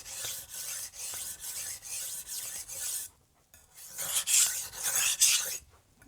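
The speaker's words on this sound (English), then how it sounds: "sharpen and grind around the bolster" Rhythmic rasping strokes of a Wusthof Classic chef's knife drawn across a sharpening stone, close and steady for three seconds, a brief pause, then louder, harsher strokes resume.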